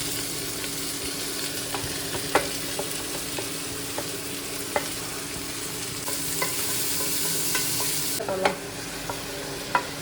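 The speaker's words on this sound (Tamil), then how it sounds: "ஸோ வந்து இப்போ கட் பண்ணி வச்சிருக்கிற வெங்காயம், தக்காளி போட்டு நல்லா வதக்கி எடுக்கலாம்" Chopped onions and tomatoes sauté in hot oil for a biryani, with a steady sizzle under occasional sharp taps and scrapes of a stirring spoon, close by and moderately loud.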